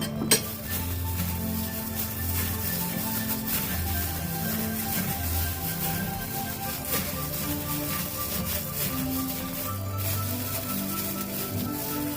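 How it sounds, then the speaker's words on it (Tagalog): A utensil stirs a cucumber and coriander salad in a bowl, making a repeated soft clinking and scraping against the dish, steady and close, over a background of music. "Then, haluin na natin"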